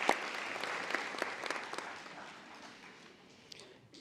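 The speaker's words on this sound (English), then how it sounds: "So can we please give them a round of applause?" Audience applause at a university nursing college convocation ceremony, a large hall of clapping that starts fuller and gradually fades and thins, somewhat distant and soft.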